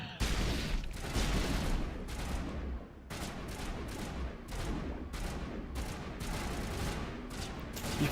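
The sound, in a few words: gunfire in the video game Mass Effect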